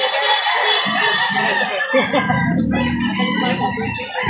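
A rooster crows loudly and close by at a Lipa City, Batangas market selling various chicken breeds, with one long crow followed by lower clucking and rustling fowl sounds.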